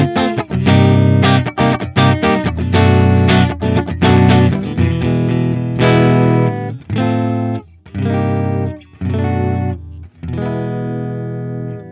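Ibanez AZ series electric guitar strumming chords on the middle and neck pickups blended, bright yet rounded, steady rhythmic strokes followed by short separated chord hits, played alone and close.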